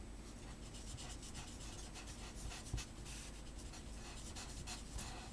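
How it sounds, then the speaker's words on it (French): A broad felt-tip marker scrubbing color onto paper, with soft continuous rapid scratchy strokes, faint and close, with an occasional light tap. "on va prendre un feutre qui colorie vite"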